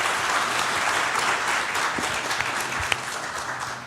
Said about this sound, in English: Let's give another round of applause to our speakers.